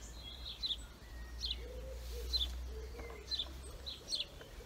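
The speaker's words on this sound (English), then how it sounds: "it's lovely to hear the pigeon cooing in the background along with the other birds too" Outdoors, a pigeon gives soft repeated coos while other birds chirp in short, bright bursts around it, all at a moderate distance with no voices.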